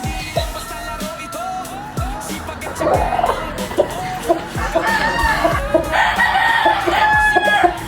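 Several fighting roosters crow repeatedly, overlapping near and far, with clucking hens and scattered farmyard noise throughout.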